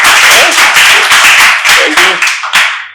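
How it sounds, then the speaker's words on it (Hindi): Loud clapping from a poetry-reading audience, a dense burst of hand claps that rises and thins out, with faint singing or talk underneath. "अब तालियों में कुछ कोताही बरत रहे हैं।"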